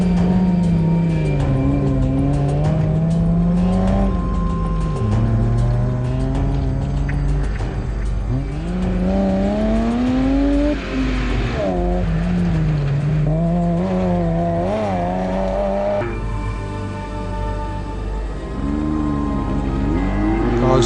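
Side-by-side and Land Rover rally vehicles in an off-road race roar continuously nearby, their engines rising and falling in pitch as they accelerate and shift through a long, loud pass.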